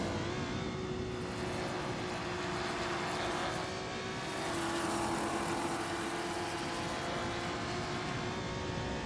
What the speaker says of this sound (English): Schron is driving a 1966 Chinook Mark II, a classic vintage ultralight.